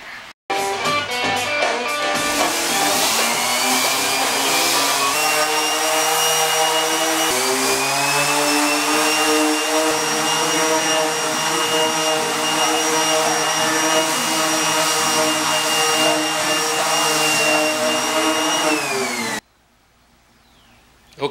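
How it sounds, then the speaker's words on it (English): A regular orbital sander smoothing a teardrop trailer's side wall panel: a loud, close, continuous motor whine with a buzzing hum that shifts slightly in pitch and runs for about nineteen seconds before cutting off. "sand this down level with this, and just do that with a regular orbital sander"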